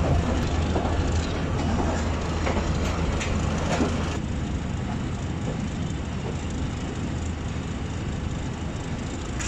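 The Mehr Express passenger train pulls out of Muzaffargarh railway station, a steady loud rumble with rail clatter, heard continuously and up close with no talk.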